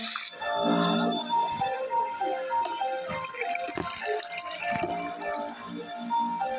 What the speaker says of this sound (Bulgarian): само че излиза вода.